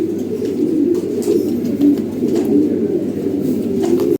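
Fancy pigeons coo continuously in a loft, a dense overlapping chorus of low, throaty calls that stays loud and close throughout with no talking.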